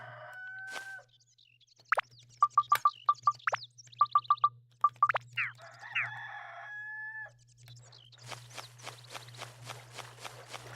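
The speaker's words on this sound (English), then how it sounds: "I'll spare you the sound of a rooster going off every 2 seconds." A rooster crows repeatedly in the video game Dark Cloud, a game-rendered cock-a-doodle-doo sounding several times in quick succession over a steady low background hum, with rapid pulsing bird-like game sounds near the end.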